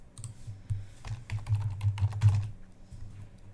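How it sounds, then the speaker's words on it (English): Typing a command on a computer keyboard in Windows 11: a quick run of close, crisp key clicks with irregular rhythm, ending in a slightly firmer press, quiet otherwise. "type ipconfig space /flush DNS and hit enter"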